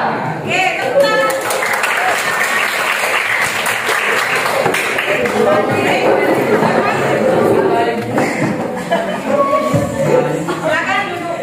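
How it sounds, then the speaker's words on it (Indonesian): A classroom of students claps together, a lively, sustained round of hand clapping mixed with chatter and voices, with rustling as the group settles, close and fairly loud throughout. "Oke, tepuk tangan."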